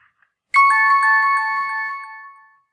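A phone chimes a text message notification, one bright ringing tone with a sharp start that rings on and fades over about two seconds, close and clear in a quiet room.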